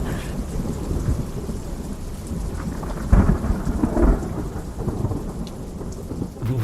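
Thunderstorm heard while storm chasing: steady heavy rain on surfaces with rolling thunder, including a louder rumble midway, and no speech.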